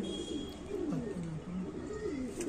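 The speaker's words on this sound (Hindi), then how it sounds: "ये बहुत चलाक और बहुत ही तेज पर वाले कबूतर हैं।" Fast-winged jaag pigeons with red feet and hard claws, kept by a pigeon fancier, coo in repeated low rolling phrases that run steadily over constant background noise.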